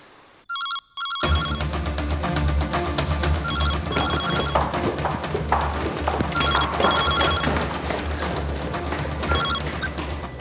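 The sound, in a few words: telephone ringing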